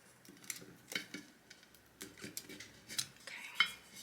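Tape being pulled and handled while a sublimation print is lined up on a 17-ounce tumbler, giving sparse close crinkles, light ticks and small scrapes spread in uneven bursts, fairly quiet with gaps between.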